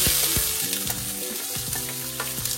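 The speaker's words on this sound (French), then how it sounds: "ici on va faire poêler les poivrons et les oignons" Peppers and onions frying in a pan for a seafood pot, with a loud, bright sizzle and clinks and scrapes of stirring throughout, no talking.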